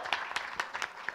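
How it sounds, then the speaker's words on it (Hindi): Audience members clap at the press conference for the 19th IIFA Weekend Awards 2018, brisk scattered applause with a few sharper claps standing out. "आप लोग प्लीज पहले तालियां बजाइए"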